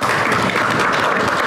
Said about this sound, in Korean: 칭찬 박수 쳐주시고요.